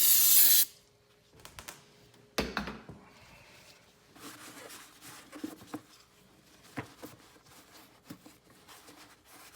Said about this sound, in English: I have some throttle body cleaner.